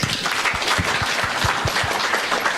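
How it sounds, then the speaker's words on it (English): Steady applause from a conference audience, many hands clapping together at once, continuous and fairly loud throughout. "A big round of applause for that."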